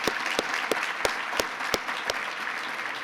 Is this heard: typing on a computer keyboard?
no